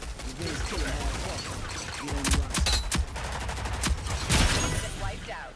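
Rapid volleys of gunfire in a fast-paced shooter game, a dense burst of sharp cracks with a talking voice mixed in underneath.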